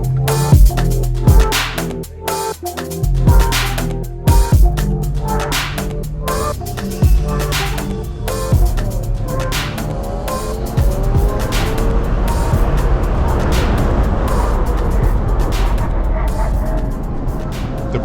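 A BMW E92 M3 with a Stoptech ST60 big brake kit laps Laguna Seca race track, its engine revving hard through shifts with repeated sharp gear changes, tire squeal on corner exits and a loud, close, sustained howl.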